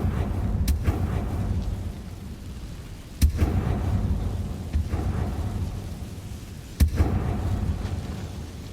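In Hogwarts Legacy, the Confringo explosive curse goes off in repeated sharp blasts, with two prominent cracks at roughly three-second intervals, each trailing into a low rumbling roll over a steady ambient bed.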